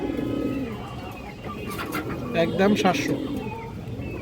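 Pigeons coo at a pigeon market where black Muslodom hens with short beaks are on offer, a few soft repeated coos rising briefly around the middle while someone talks over steady background chatter.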